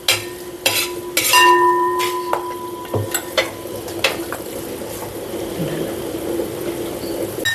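Chicken curry with garlic paste stirred in a pan, metal spoon clanking and scraping against the pot in irregular strokes over a continuous sizzle, close and loud, no speech.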